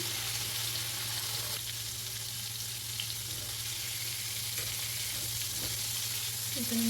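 Chicken pieces frying in hot oil give a steady, dense sizzle that holds throughout, with faint kitchen clinks near the end.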